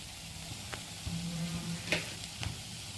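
Potato masala ingredients with garam masala powder sizzle gently in a pan, with a few soft spoon scrapes and taps as they are stirred while they lightly soften and brown.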